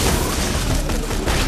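Loud, dense gunfire from a green corrosive pistol and other guns during a boss fight in the video game Borderlands, a continuous barrage of overlapping booming shots close up with no talk.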